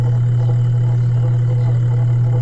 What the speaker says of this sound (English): See the rotation of the motor.